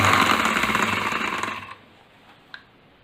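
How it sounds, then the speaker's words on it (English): Electric kitchen grinder grinding spices in a tightened grinder cup, a loud close whirring buzz for about a second and a half that cuts off, leaving quiet and a single small clack. "put in the grinder cup and just make it tight"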